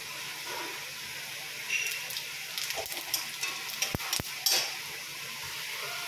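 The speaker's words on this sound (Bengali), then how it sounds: "আমি কিন্তু ডাঁটাগুলো এইভাবে ভাজা করে নিচ্ছি" Vegetable stems frying in a pan with a steady low sizzle, broken by a few stirring scrapes and two sharp utensil knocks near the end.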